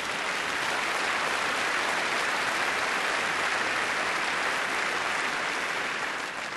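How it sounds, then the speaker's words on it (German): Steady, dense applause from a comedy show audience fills the whole stretch at an even level, with no voices standing out. "Ist einen Applaus wert"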